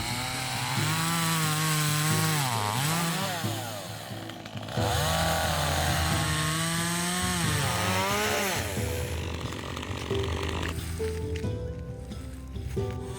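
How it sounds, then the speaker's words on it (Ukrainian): A gasoline chainsaw revs and bogs repeatedly as it cuts stumps from a fallen tree, loud and close, with the engine pitch rising and falling, then idling toward the end. "Заводимо бензопилу і відпилюємо два товстеньких пенька."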